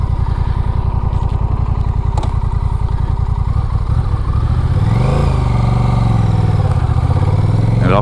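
A Honda Rebel 1100 motorcycle engine is heard up close and loud, with a rapid steady thumping beat at first that then rises in pitch with a few blips of the throttle.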